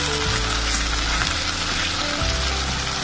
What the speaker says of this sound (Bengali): ভালো করে একটু ফ্রাই করে নিই